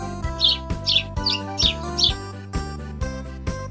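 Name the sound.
lark singing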